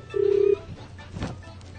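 A single steady telephone tone plays clearly for about half a second at the start of a prank phone call, then fades into faint room noise.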